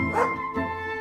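Village dogs in an animated Panchatantra story bark twice in quick succession, close and loud, with no voices.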